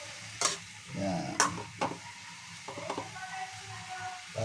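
Food frying in a pan is stirred with a few sharp utensil scrapes and clinks over a low, steady sizzle, close up and without speech.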